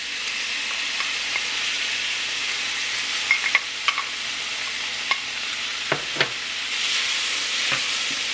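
Egg and tomatoes stir-fry in a pan with a steady, bright sizzle. A few soft scrapes and clicks of a utensil stir through it, and no voice is heard.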